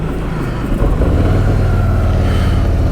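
Harley-Davidson Sportster S motorcycle engine rumbling on a London street, a steady, loud, low drone that thickens slightly about a second in and holds without pause.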